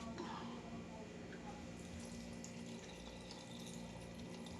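Mineral water poured into a blender for carrot and pineapple juice, a steady close splashing trickle with a low hum underneath, continuing for several seconds at moderate level.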